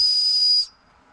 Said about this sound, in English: And the back of it has a whistle.